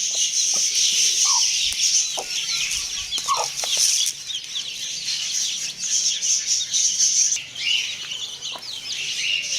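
Chickens and chicks cluck and chirp steadily through feeding time outdoors, with a dense chorus of higher peeps from the chicks and scattered louder clucks from the grown birds.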